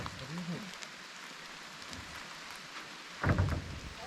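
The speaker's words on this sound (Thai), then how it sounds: "มีฝนตกโปรยปลายลงมาทั้งวันนะครับ" Steady rain falls all day over a rooftop construction site at an earthen house, a constant soft hiss throughout with a brief louder knock or thump near the end.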